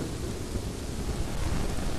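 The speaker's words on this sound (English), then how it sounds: "Wow, it's a lot of lightning." A thunderstorm with lightning in the Kingdoms and Castles city-building game produces a steady rumble of thunder over heavy rain, a continuous dense roar with no voices.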